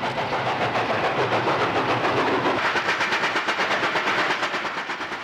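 Steam locomotive 3659 hauls an eastbound express through New South Wales country near Bloomfield, its loud, steady exhaust beats chuffing rhythmically close by alongside rolling wagon noise, easing slightly toward the end.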